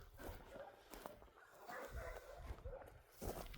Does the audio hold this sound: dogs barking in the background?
yes